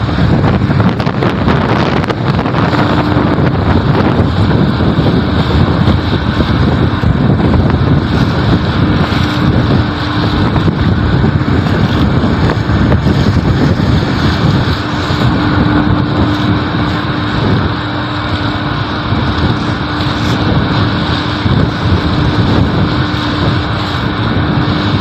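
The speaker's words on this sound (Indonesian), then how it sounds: "anginnya tambah kencang." Strong wind buffets the deck of a bunker ship, Chung Yu No.1, as it moors alongside another vessel, a loud, steady roar of gusts and microphone buffeting with a low engine hum beneath, continuous throughout with no talking.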